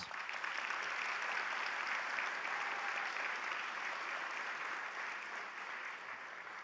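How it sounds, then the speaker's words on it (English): Sustained applause fills a banquet hall for volunteers at a Good Citizen Day dinner, a dense, even roar of many hands clapping throughout. "If you could, just take a moment and give them a round of applause"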